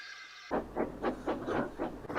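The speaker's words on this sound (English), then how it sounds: "Thomas and Duck quickly backed down onto the train" A steam engine train rolls along with rhythmic chuffing pulses, about six evenly spaced beats following a brief steady hiss at the start.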